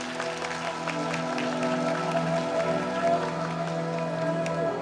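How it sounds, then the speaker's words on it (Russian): Enthusiastic applause from an audience at an architecture award ceremony, a sustained dense patter of many hands clapping over a low hum, with faint voices mixed in. "давайте еще раз подарим бурные аплодисменты"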